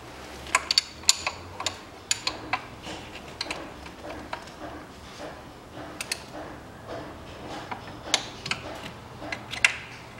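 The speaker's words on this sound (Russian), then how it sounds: "И эти болтики подтягиваем 23 ньютона метра." Ratcheting and clicking of a torque wrench tightening camshaft bolts on a Land Rover Discovery 3 during a timing belt and pulley replacement, a run of sharp metallic ticks at moderate distance with quieter mechanical rattles in between.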